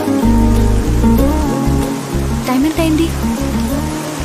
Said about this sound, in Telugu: వర్షం చూస్తే తగ్గేటట్టు లేదు